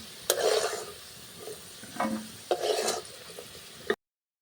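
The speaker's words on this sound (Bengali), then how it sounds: "দেখুন আলুটা আমার লাল লাল করে ভাজা হয়ে গেছে" New potatoes fried golden-red in oil in a kadai, with a few close, rasping spatula scrapes and stirs over a soft sizzle, coming in uneven bursts before cutting abruptly to silence near the end.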